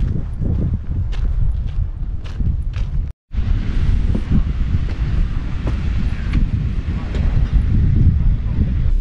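Strong, steady wind buffets the microphone on Pirita beach in Tallinn, a continuous low roar with gusty surges and a brief dropout near the middle, no voices over it.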